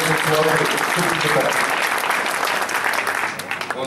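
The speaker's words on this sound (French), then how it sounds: "Et on l'applaudit encore" An audience at a workers' rally in La Courneuve breaks into sustained applause, dense loud clapping filling the room with some voices mixed in before it begins to thin out.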